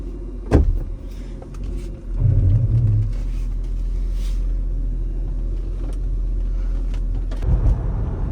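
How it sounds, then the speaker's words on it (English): Interior road noise of a small Mercedes car while driving, a steady low rumble throughout, with a thump near the start and brief louder bumps partway through and at the end. "Driving my daughter's little Mercedes"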